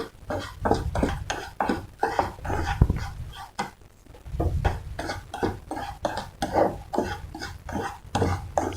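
Sugar melting in ghee for caramel popcorn is stirred in a pan, giving a steady rhythmic scraping and clinking of a spoon against metal, close and continuous with one brief pause.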